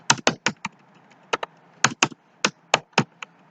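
Close, crisp keystrokes on a computer keyboard come in short irregular bursts of distinct taps separated by brief pauses, with no voices.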